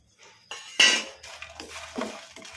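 Dry red chillies tumble into a metal kadai for dry frying with no oil, giving a few short, close clinks and light rattling knocks against the pan.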